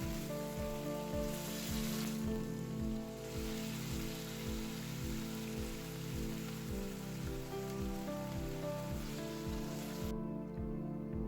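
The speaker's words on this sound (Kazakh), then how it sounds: "Қызып тұрған табаға тоң майды салып, туралған етті қуыра бастаймыз." Chopped meat frying in hot rendered fat in a pan, giving a steady, dense sizzle with rapid crackling spatter that stays even and close throughout, with no voices.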